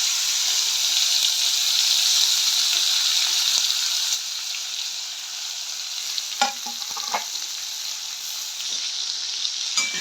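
Onion, coriander, green chili and garlic-ginger paste go into hot oil for a Hyderabadi chicken dish, a loud steady sizzle close by with a few clinks of stirring.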